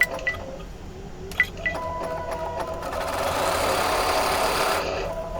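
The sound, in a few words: embroidery machine stitching placement line with magnetic hoop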